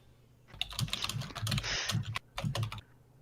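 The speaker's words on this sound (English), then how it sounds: "Serious typing noises." Computer keyboard typing during a tabletop role-playing game session, a busy run of rapid keystrokes with brief pauses, fairly close and alone with no talk.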